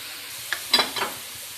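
Onions frying in a pan give a faint, steady sizzle, with a few short scraping clicks as a spoon stirs them; no one speaks.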